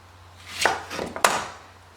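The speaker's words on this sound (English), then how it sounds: "cut the onion in half, cut off the top" A knife cuts through an onion on a wooden board during fermented onion prep, a couple of close, sharp chops with a soft slice between them, no talking.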